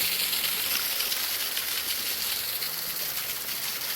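Clear water flowing between rocks at a spring in a hill forest, a steady close broadband rush that stays even and continuous, with no voices.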